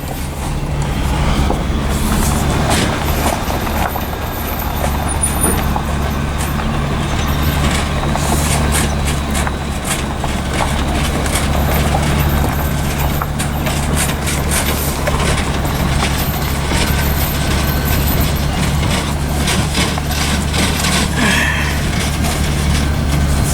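A farm vehicle's engine hauls a heavy, old seed tender trailer loaded with weight on a wheat farm, a loud, steady diesel drone with rattles and clanks throughout, close and continuous with no talk.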